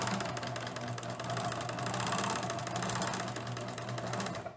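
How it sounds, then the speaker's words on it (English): A sewing machine runs steadily across a garment neckline for Vogue pattern 9057, humming close and continuous for several seconds before stopping. "So we're just gonna sew this across."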